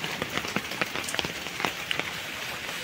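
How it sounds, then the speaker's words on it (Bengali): Steady village rain falls close by, with dense pattering drops striking surfaces and sharper individual hits scattered throughout, and no one speaks. "নামছে বৃষ্টি"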